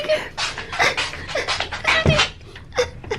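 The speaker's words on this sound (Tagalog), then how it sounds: "Ayan yung aso ko." A pet dog pants and whimpers close by outdoors in the snow during a Texas snowstorm, soft breathy bursts mixed with light rustling and a few brief vocal sounds.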